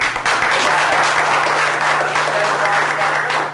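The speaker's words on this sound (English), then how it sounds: "We have Congressman Brady here, who we applaud you and we thank you for all the work you're doing" Loud, dense applause for a congressman at a community grant presentation for police cars, a continuous roar of many clapping hands held steadily throughout, with a low electrical hum beneath.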